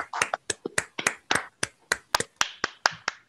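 Sparse, uneven claps from a small online audience applauding speakers at a Rotary Club conference, a few people clapping separately at close range over a few seconds.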